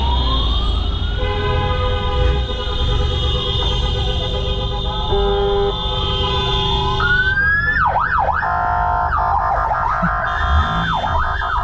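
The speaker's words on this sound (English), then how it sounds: "If you hear like signals like that and drivers driving crazy like now, it means we have a wedding." Wedding convoy in Chechnya with cars sounding siren-like horn signals, wailing and warbling electronic tones rising and falling over a steady road rumble, joined later by rapid yelping sweeps.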